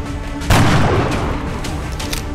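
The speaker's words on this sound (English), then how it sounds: "Here comes some firing." Gunfire rings out in the turn-based strategy game XCOM: Enemy Unknown. It starts as a loud, dense burst at about half a second and rumbles on continuously at close range.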